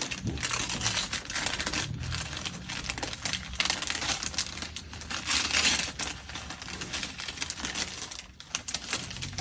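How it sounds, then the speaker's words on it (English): Wrapping paper crinkles and crumples continuously as a Christmas present is opened, with dense close rustling and tearing throughout. "this is a lot of paper"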